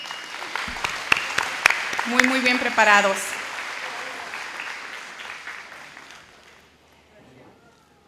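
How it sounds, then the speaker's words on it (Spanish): Audience at a dual language bi-literacy certification ceremony clapping, a scattering of sharp claps swelling briefly and then tapering off, with someone speaking over the applause. "Otro aplauso para nuestros jóvenes."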